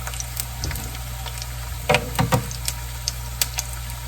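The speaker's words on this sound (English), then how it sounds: "Now just let them cook a little bit on one side" Keto sopapilla tortillas fry in a pan with a steady, soft sizzle, broken by scattered faint pops and a few light clinks nearby.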